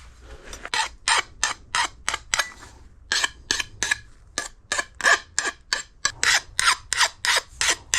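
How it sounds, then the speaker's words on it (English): Hand filing and sanding along the edges of a DIY fishing rod holder for a raft frame: a close, brisk series of about twenty rasping strokes in a steady rhythm, each short and scratchy, with no talk. "I'm going to sand and file and make sure this is smooth before we drill holes"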